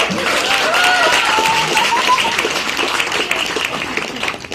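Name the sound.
audience applause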